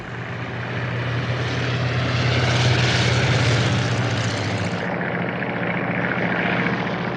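Several propeller aircraft fly together in close formation, their engines droning loudly and continuously. The drone swells toward the middle, then eases slightly, with no voices.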